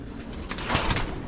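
Pigeons cooing at close range inside a bird enclosure, a soft burst of low throaty calls rising in the middle of a brief moment, alone with no talk.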